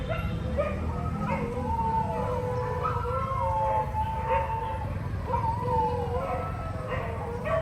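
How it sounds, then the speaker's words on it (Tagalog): Several dogs howl and whine at a distance near a temple in Cambodia, their drawn-out cries rising and falling over steady outdoor background noise. "naririnig niyo yun, guys. Kumakahol yung mga aso."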